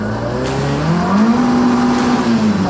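A Ford Escort Mk1 fitted with an ST170 engine that has a knocking fault drives hard nearby. Its engine note climbs steadily as it revs up and holds there, loud and continuous.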